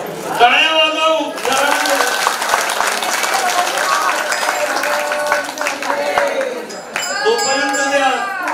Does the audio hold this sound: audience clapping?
yes